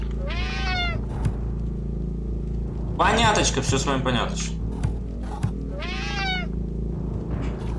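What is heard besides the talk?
cat meowing in Friday the 13th Killer Puzzle video game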